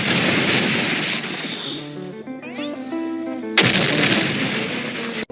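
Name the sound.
cartoon explosion from SpongeBob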